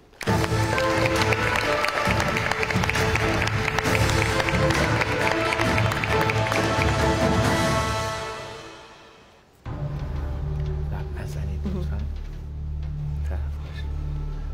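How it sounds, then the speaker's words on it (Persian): A classroom audience applauds a group's representative during a relay round of a school activity, dense sustained clapping and cheering for about eight seconds before fading, followed by quieter room noise and low murmuring. "لطفا نماینده گروه 1 رو تشویق کنید"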